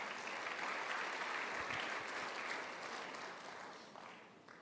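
A burst of crowd applause, dense and fairly loud at first, gradually thinning and fading away.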